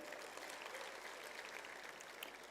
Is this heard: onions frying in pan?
no